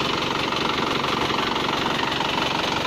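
A car engine idling during a radiator flush, a steady, loud mid-pitched running drone with a faint even pulse, close and continuous with no talking.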